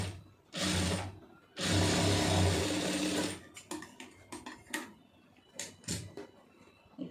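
A sewing machine stitches fabric along marked points, running in two loud sustained bursts, the second longer, before stopping; handling noises and light clicks of the fabric follow.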